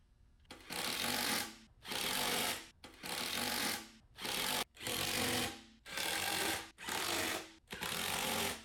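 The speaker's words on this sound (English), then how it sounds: "tighten all 8 nuts completely" Power tool bursts from tightening the nuts on the side panels of a BCS walk-behind tiller: seven loud, broadband whirring runs of about a second each, separated by short pauses, close by with no talk.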